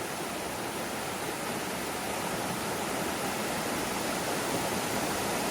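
Waterfall in Shenandoah National Park after rain, muddy water pouring in a dense, steady broadband rush, unbroken and fairly close with no talking.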